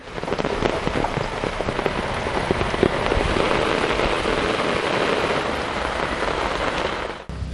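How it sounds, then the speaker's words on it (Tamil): Heavy evening rain pours down steadily over Pandalur and its surrounding areas, a dense, loud, unbroken hiss of drops drumming on surfaces, with no voices. "மாலையில் பந்தலூர் மற்றும் அதன் சுற்றுவட்டார பகுதிகளில் கனமழை கொட்டி தீர்த்தது"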